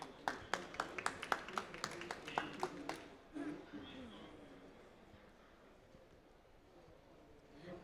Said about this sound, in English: So please give a big round of applause to Juliana